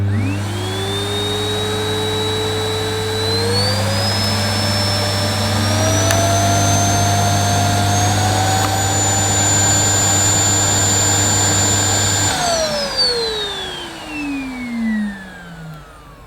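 A Miele Boost CX1 Cat & Dog vacuum cleaner switches on and runs with a loud, smooth motor whine that rises in pitch as it speeds up, holds steady, then spins down after being switched off.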